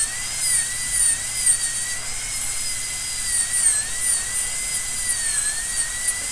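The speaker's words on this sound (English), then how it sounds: "So I will just go ahead with this burr and remove the intervening tooth substance quickly." A dental handpiece with a burr grinds away tooth substance, a steady, close, high-pitched whine that wavers slightly as pressure changes and runs continuously with no talking.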